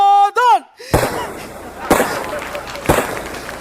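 A ceremonial gun salute fires in loud, sharp booming blasts, three reports spaced about a second apart, right after a brief tonal whine; close and forceful with no talking over the shots.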